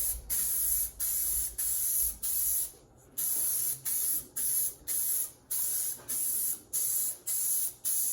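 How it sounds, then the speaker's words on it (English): Rhythmic bursts of aerosol spray primer hitting a steel push bar for a 1967 K10 truck, about a dozen short hissing blasts with brief gaps between them, close and loud, no talking. "So let's get some primer on this."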